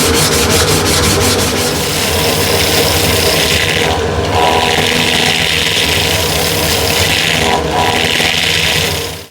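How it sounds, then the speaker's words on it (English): A 120-grit sanding pad is worked against the flat outer areas of a wooden bowl, likely on a lathe, giving a loud, close, continuous abrasive rubbing hiss with brief dips where the pad lifts off. "So 120 grit on a pad, and I just want to sand these outside flat areas."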